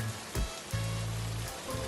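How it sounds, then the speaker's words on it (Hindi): Steady rain falls outdoors in cold weather, a soft, even hiss with faint patters and a low hum underneath, no voices. "बारिश हो रही है।"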